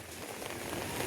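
Heavy rain falling in Kalyan, a dense steady patter of drops on surfaces, continuous and close with no voices.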